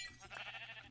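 A single short sheep bleat from the video game Minecraft, fairly soft and close, with nothing else around it.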